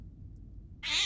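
Cat freed from a washing machine in the horror game Nightmare of Decay, a short sudden meow bursting out after a low rumbling quiet, loud and close.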